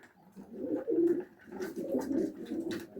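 Young pigeons coo softly in a loft, a series of low, rolling, throaty calls repeating close by with brief pauses between them.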